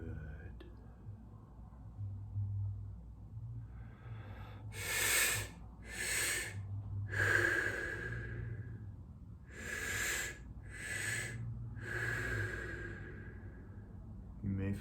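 Guided breathwork, a series of loud, close, breathy exhales and inhales in a rhythmic run of about seven breaths, each a hissing rush of air.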